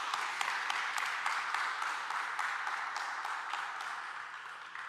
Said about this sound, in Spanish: Dime un aplauso al Señor